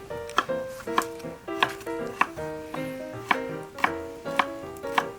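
Knife chopping green bell pepper on a board: steady, evenly spaced thuds about two per second, close and clear, with no voices.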